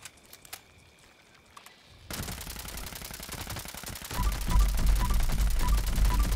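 Weapon fire in Fallout 76 starts after a quiet stretch as fast, dense automatic bursts that grow louder and heavier toward the end, with no one speaking.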